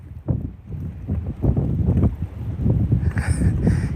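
Wind blowing hard over a bass fishing boat on the water, a steady gusty rumble buffeting the microphone with no talking.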